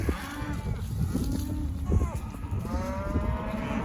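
Cattle in a pen with hay and silage feed moo repeatedly, several drawn-out calls overlapping at close range over a rough, wind-buffeted background.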